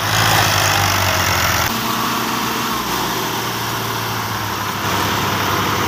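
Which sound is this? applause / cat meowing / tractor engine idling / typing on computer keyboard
tractor engine idling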